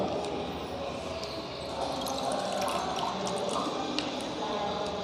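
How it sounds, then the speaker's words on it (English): Water pours into a beaker for a sugar-dissolving experiment, a continuous splashing and gurgling stream lasting several seconds at close range, fairly loud and unbroken. "I'll pour water in beaker"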